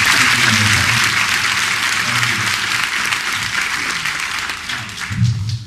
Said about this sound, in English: Let's give Senator Lesniak a round of applause.